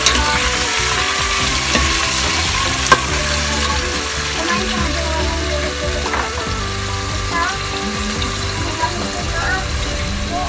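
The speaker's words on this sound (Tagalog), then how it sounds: "hahaluin natin sa kutsero yung chicken" Chicken stirred with a ladle in a cooking pot over low heat, a continuous frying hiss with occasional ladle scrapes and clinks against the pot, close and loud throughout.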